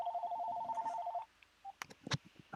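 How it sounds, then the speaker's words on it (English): A telephone rings indoors, an electronic warbling tone held for just over a second, followed by brief clicks and a couple of sharp knocks or handling sounds nearby. "God, now the phone's ringing."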